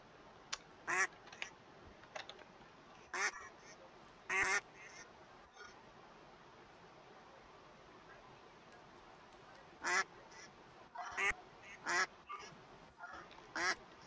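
Ducks quack in Minecraft (Better Minecraft Fabric 1.19 survival), in several short, fairly loud bursts scattered over a quiet ambient background, some calls closely paired.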